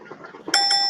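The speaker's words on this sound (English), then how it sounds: "Kurt, do I have the bell sound?" A bright bell chime rings out as a sound effect on a sports livestream, struck once after a stretch of quiet murmur and left ringing with a sustained metallic tone to the end.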